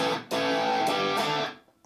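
Distorted chords from an Enya Inspire electric guitar on its distortion preset: a short strum, then a long sustained saturated chord that holds loudly and fades out near the end.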